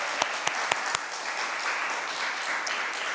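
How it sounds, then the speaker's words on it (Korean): A church congregation applauds to welcome musicians at a Wednesday service, broad sustained clapping from a roomful of people, with a few sharp louder claps near the start standing out before the applause settles into an even wash. "우리 박수로 함께 환영하도록 하겠습니다"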